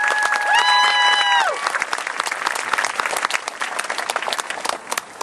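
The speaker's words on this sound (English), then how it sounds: "Can I have a round of applause for all the graduates and staff?" A round of applause for graduates and staff at a school graduation ceremony, a crowd clapping steadily after a brief loud whoop or cheer near the start, the clapping thinning slightly toward the end.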